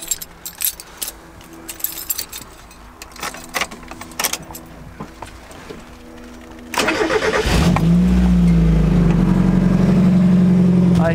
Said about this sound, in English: But I'm gonna fire it up quick, see if it sounds any different.